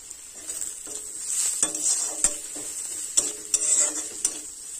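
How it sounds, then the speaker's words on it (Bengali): Onion and green chilli fry in hot oil for a river crab, Malabar spinach and potato curry, a steady high sizzle broken by several sharp spatula scrapes and knocks against the pan, close and fairly loud with no talking. "পেঁয়াজ লঙ্কা ভালোভাবে ভেজে নেব।"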